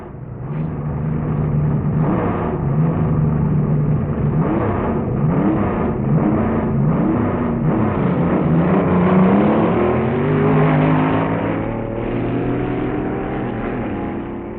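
A vintage dragster engine at the 1961 U.S. Nationals drag race, revving repeatedly in loud rising and falling bursts. It builds into a sustained roar before easing off near the end, with no talk.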